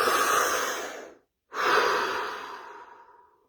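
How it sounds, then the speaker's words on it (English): Two breaths, close and clear: a long inhale, a short silent pause, then a slow exhale that fades out. "Deep breath."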